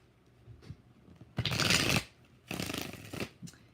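A deck of tarot cards is shuffled close up in distinct bursts: a long riffle, a pause, then a second long riffle followed by a short flick, each crisp and loud against near silence.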